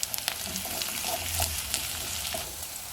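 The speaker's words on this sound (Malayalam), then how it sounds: "ഇതിൻ്റെ കൂടെ തന്നെ നമുക്ക് കുറച്ച് പച്ചമുളക് ഇട്ട് കൊടുക്കാം ഒന്ന് വഴന്ന് വരട്ടെ" Green chilies sauté in hot oil in a pan for a hotel-style pickle, making a steady, close sizzle with small pops and a few faint stirring taps.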